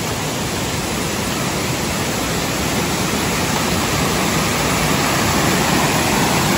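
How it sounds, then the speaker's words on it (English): Mohawk Falls in Ricketts Glen State Park roars in a dense, steady rush of falling water, heard from near the top of the cascade, loud and unbroken throughout. "Coming down to the top of Mohawk Falls now."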